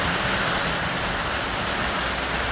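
Steady rain falls outdoors in a dense, even hiss that stays loud and constant with no breaks and no voices.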